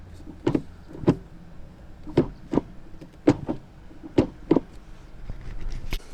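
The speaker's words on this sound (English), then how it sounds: "let's just compare the shift throw from first to second" A stock Subaru WRX STI shifter moving from first to second gear gives a quick series of sharp mechanical clunks and clicks, close up and fairly quiet, with no talking.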